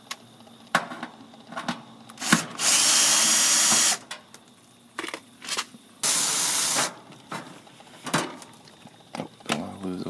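A power drill backs screws out of an air conditioner panel in two sustained bursts of loud whirring, separated by clicks, knocks and handling noises close by.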